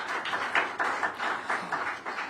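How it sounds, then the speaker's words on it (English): Audience applause for retail grant recipients at a Washington, DC mayoral event, a steady wash of many hands clapping at moderate loudness, with no voices over it. "Give yourselves a round of applause"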